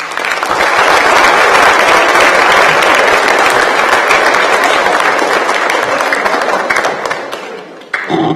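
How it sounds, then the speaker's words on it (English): Loud, dense applause from a large audience at an eighth-grade academic awards ceremony fills the space steadily for several seconds before cutting off abruptly. "So let's give our staff a round of applause."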